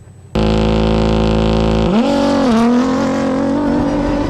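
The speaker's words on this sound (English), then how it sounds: "It's off the start line for Yazid Al-Raji, opening the road as the first car" A rally car at the Dubai International Baja bursts from near silence into a loud, close engine roar as it leaves the start line, with the pitch climbing through its gears.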